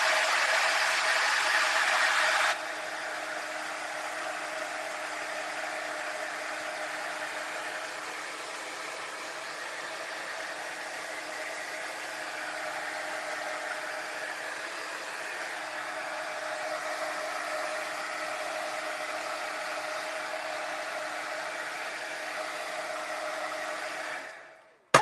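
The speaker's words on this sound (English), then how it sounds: "I'm going to heat set this just a little bit." A heat tool blows steadily for about twenty-five seconds to heat-set craft paint, a continuous close whooshing hum that is slightly louder at the start and then cuts off at the end.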